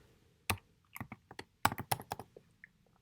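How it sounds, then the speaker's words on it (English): Keys clicking on a computer keyboard as someone types into a website's search bar, with irregular bursts of sharp taps and a few quick runs of strokes, close and clear with no talking. "when I first start typing into it"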